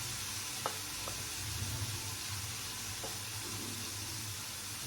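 Ground spices such as coriander sizzling in hot oil in a pan for a prawn curry, a steady close crackling hiss with a few brief clinks and stirring sounds, no talking.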